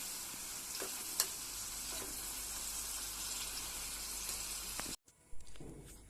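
Mushroom fry sizzles steadily in a pan as pepper powder is stirred through, a continuous close hiss with a few sharp spatula clicks, cutting off abruptly before a brief quieter rustle and clatter.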